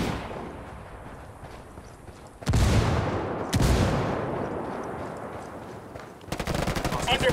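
Video game gunfire in a tense firefight: sustained rattling bursts of automatic weapons, loud and close, with short breaks between heavy volleys and a rapid burst at the end.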